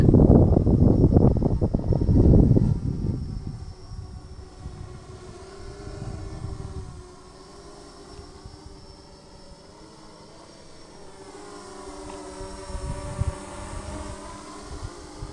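A carbon fiber FPV drone with a hard-mounted camera flies back, its motors starting as a loud close whoosh that settles into a steady, fainter tonal whine from farther away, no voices.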